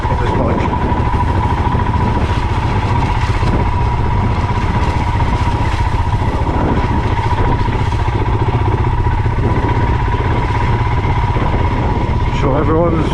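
A Royal Enfield Himalayan 411 motorcycle ridden slowly through narrow muddy trail ruts, its engine droning steadily and loudly throughout with faint clatter and wind noise.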